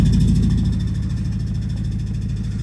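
A BMW V8 car engine runs steadily with the transmission in drive, a constant low droning hum that holds close and even, with no voices.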